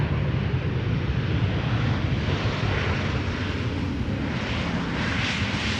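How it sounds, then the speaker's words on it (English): An airliner from Helsinki touching down at Amsterdam Schiphol, a continuous broad engine roar at steady level from start to finish, with no talk. "Touching down after 2 hours and 2 minutes of flight."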